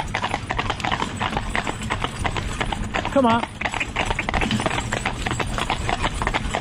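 Horse hooves clip-clop in a steady, close rhythm on a hard surface during tandem driving work, with someone talking over them throughout.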